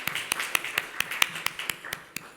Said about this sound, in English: Round of applause for Gunhild.